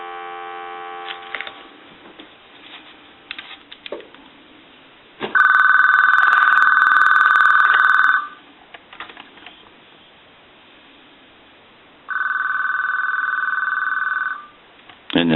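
AT&T Trimline Lime 210 telephone ringing at loud volume, two long electronic warbling rings separated by a pause, with faint clicks and handling noise between them.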